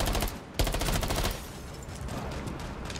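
Gunfire in Rainbow Six Siege: a rapid rattling burst, then a sharp heavy blast and sustained loud shooting that fades into continued firing at a lower level.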